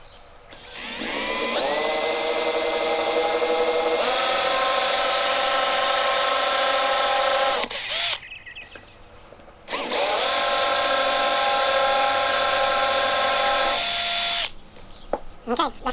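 A power drill whines steadily at high speed as it bores through the pillars of a diecast Matchbox car, two long close runs separated by a short pause, with faint speech near the end.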